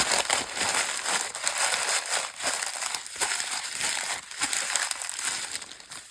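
Plastic bag being crinkled and handled up close during a mixed media index card craft session, a steady irregular crackle and rustle with no voices.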